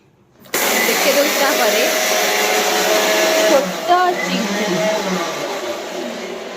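Electric mixer grinder whirring as it grinds cumin, coriander, garlic and dried chilli into masala, switching on abruptly and running as a loud, steady high-pitched whine that shifts slightly mid-run.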